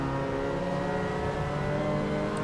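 A touring car in the racing game Assetto Corsa drones at high revs, a loud, steady engine tone that barely shifts for a couple of seconds, with no voices over it.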